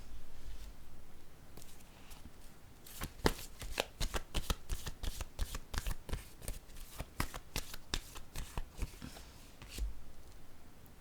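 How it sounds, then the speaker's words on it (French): Playing cards being handled and laid down, a fast series of crisp papery flicks and riffling snaps, quiet and close, repeating for several seconds without talk. "Je vais déposer une autre carte"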